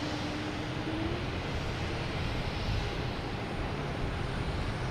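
American Airlines jets landing and taking off at Boston Logan Airport, heard as a broad, continuous roar of distant jet engines that holds steady and fills the whole stretch without letting up.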